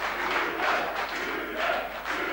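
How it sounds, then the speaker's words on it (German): Hundreds of young right-wing extremists from East Germany cheer together as one loud, sustained crowd roar, swelling in waves that peak twice, with no single voice standing out. "Den abgehalfterten Nazi-Ideologen aus dem Westen jubeln plötzlich hunderte junge Rechtsextremisten aus der DDR zu."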